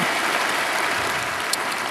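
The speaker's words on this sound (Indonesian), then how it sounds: "Berikan tepuk tangan kita untuk Tuhan kita." A congregation applauds during a Sunday service at an Indonesian church, giving a brief, even wash of many hands clapping with no voices over it.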